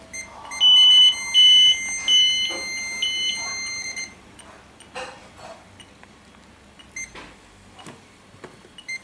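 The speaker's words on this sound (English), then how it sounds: "So we got full alarm on the Testo." Close, loud high electronic beeps from a Testo R410a refrigerant leak detector in full alarm, repeating rapidly for about four seconds before stopping, leaving quiet room noise and faint handling sounds.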